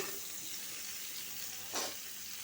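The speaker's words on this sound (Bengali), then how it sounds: "এই যে কপি ফুলকপি আর আলুগুলা ভাইজা নিতেছি" Cauliflower and potato pieces fry in a pan on a gas stove, making a steady, close, moderate sizzle. A brief louder hissing burst rises near the end.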